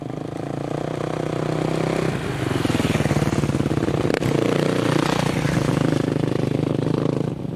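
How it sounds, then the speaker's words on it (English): Dirt bikes and off-road vehicles pass along a trail in the Anza-Borrego Desert, a loud continuous engine drone with a revving rise and rattling clatter, close by throughout. "We also run into a few different dirt bikes and off-road vehicles along the way"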